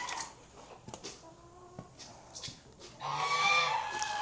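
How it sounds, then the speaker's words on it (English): Backyard chickens clucking while they wait for thrown-out forage food at morning feeding; a cluster of close, varied clucks and short calls, then a louder, drawn-out squawk toward the end over light farmyard background. "the chickens wait on their forage food that I throw out."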